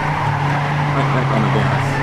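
Race car in the video game Trackmania 2 Canyon braking and skidding: a steady engine drone with a sustained tire squeal running loud and continuous throughout.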